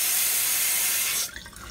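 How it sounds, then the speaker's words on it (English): Water runs steadily from the kitchen sink faucet of a 2018 Coachmen Freelander 20CB Class C motorhome, a close, even hiss that cuts off abruptly after about a second, leaving a faint trickle. "Same thing with the sink here. So you have a flow of water."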